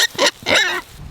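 Pigs on a grassy pasture with growing tomatoes, cucumbers and pumpkins give two loud, close grunting snorts in quick succession, followed by a quieter rustle.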